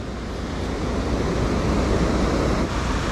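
Waves wash in steadily at the driving beach in Kannur, Kerala, a dense continuous roar of surf mixed with wind buffeting the microphone, loud and close with no voices.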